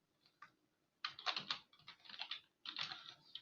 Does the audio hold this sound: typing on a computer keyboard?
yes